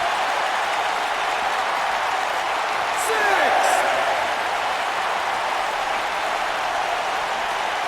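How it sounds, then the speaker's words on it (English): Arena crowd noise in WWE 2K19 during a Bret Hart versus Owen Hart match, a steady distant roar and murmur with a brief swell partway through, underlying a commentator's voice. "by the sound of this crowd"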